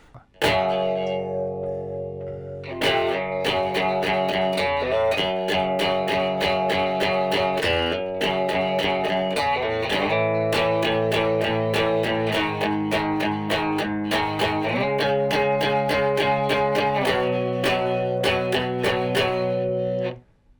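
Distorted electric guitar playing a riff slowly and steadily, chords and single notes ringing out in a deliberate rhythm for about twenty seconds, no voices.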